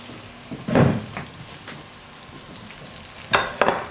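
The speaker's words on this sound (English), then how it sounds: "Hear that sizzle." Close sizzling and crackling of cauliflower roasting in a hot pan, with a few scraping stirs and occasional louder bursts.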